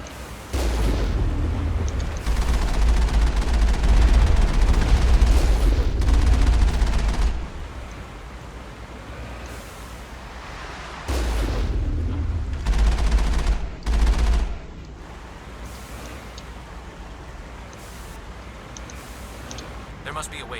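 Artillery fire in the game Mass Effect comes as heavy, booming bursts of gunfire in two long loud stretches, separated by quieter rumbling gaps and a few shorter sharp blasts.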